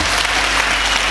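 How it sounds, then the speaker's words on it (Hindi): Audience clapping fills a Hindi poetry recital in Sardarshahr, Rajasthan, a dense, steady burst of many hands applauding close and loud for about a second. "एक बार ताली बजा के"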